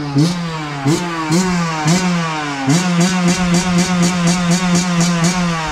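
A 2019 Yamaha YZ125 two-stroke dirt bike engine revs repeatedly, with rising and falling pitch sweeps in quick succession, loud and close, with no talk over it.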